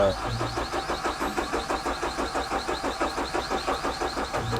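An engine on a test bench is cranked by its starter, giving a rapid, even chugging rhythm that repeats steadily without catching, close and loud, with people talking over it.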